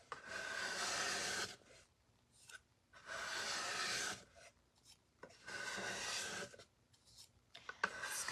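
A scraper dragged across a wooden patriotic centerpiece in four long rasping passes, each a second or so, separated by short pauses with light taps and scuffs, close but fairly quiet.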